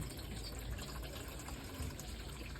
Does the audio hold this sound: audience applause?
no